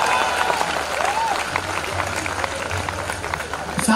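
Crowd applause at a Hindi poetry gathering, continuous clapping from a large audience with a voice talking over it.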